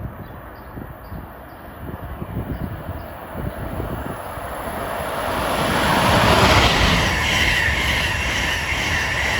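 An Amtrak Acela high-speed train, number 2169 running from Boston to Washington, passes through New Brunswick, New Jersey: a loud, broad rushing roar with rhythmic low thumps that swells toward a peak, with no talk.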